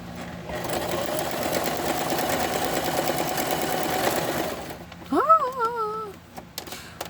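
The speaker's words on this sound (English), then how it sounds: "I am not the best at this sewing machine." A sewing machine stitches fabric in a steady, continuous whir for several seconds, then stops, followed by a brief vocal sound and a few quieter clicks.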